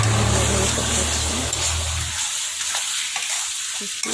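Meat with whole garlic cloves is stirred and sautéed in a pan, giving a loud, dense sizzle with a low hum at first, then a quieter crackle with light stirring scrapes.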